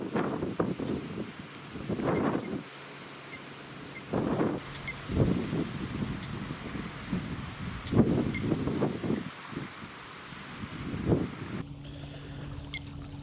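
Wind gusts buffet the microphone at a lake during bottom-rod fishing from a boat, coming in loud irregular bursts with calmer gaps between them and a low steady hum near the end.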